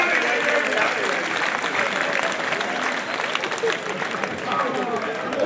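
An audience at a poetry performance by Shambhu Shikhar in Rudrapur applauds loudly, with dense, continuous clapping from many hands that swells and dips slightly and never breaks.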